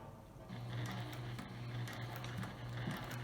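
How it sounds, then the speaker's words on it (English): A sewing machine stitches fabric along a half-inch seam line for a ring bag, running in a steady, even whir with a faint rhythmic pulse, close and quiet. "So let me start to sew."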